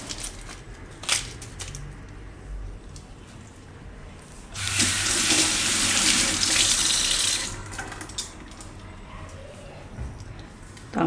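Running tap water pours over chopped, peeled onion in a kitchen sink, with a steady rushing splash that swells loudly midway and then eases off, all amid quieter kitchen sounds.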